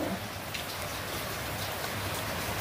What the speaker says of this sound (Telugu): ఇంకా వర్షం బాగానే పడుతుంది చూడవు.